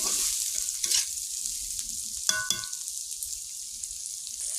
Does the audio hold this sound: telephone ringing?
no